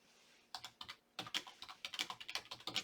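A computer keyboard clatters as a search query is typed, producing quick, crisp keystrokes in several bursts with brief pauses between them, close and fairly quiet, with no talking.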